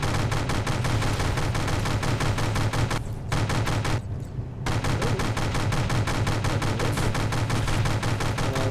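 A rapid-fire paddle gun in the naval combat game From the Depths fires a dense, continuous stream of shots. The close, loud bursts break off briefly twice before hammering on without a pause.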